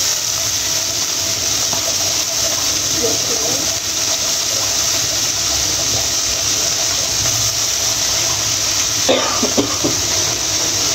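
Onions and potatoes frying in a kadai, a steady loud hiss of sizzling oil running throughout, with a few brief stirring scrapes near the end.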